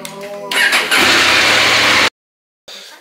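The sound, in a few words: motorcycle engine starting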